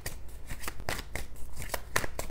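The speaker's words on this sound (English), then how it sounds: "3 more cards, please, Eddie." Tarot cards are shuffled by hand close up, a quick series of crisp riffling and slapping bursts in an uneven rhythm.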